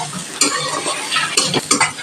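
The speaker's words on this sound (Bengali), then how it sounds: "মিডিয়াম হিটে পেঁয়াজটা ভেজে নেব" Chopped onions with a pinch of salt frying over medium heat in a pan, a close sizzle broken by repeated sharp scrapes and clinks of a spatula stirring.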